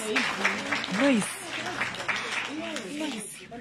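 Audience clapping for an accountant at a gathering, a broad wash of applause mixed with voices talking and cheering over it.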